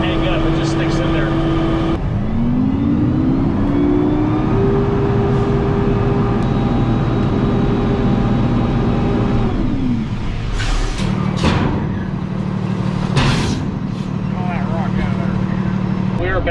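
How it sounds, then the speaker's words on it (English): A rented dump truck's engine drones loud and close, revving up, dropping as the clutch is tapped to shift gears, then pulling again; someone talks over it. "So you just kind of tap the clutch to release that gear so you get to your next one."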